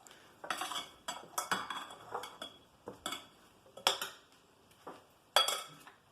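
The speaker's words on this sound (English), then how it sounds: "Just want to sort of mix all that together" Minced vegetables for an octopus salad being tossed together in a bowl: a run of sharp utensil clinks and scrapes in short irregular bursts, fairly close, with no talking.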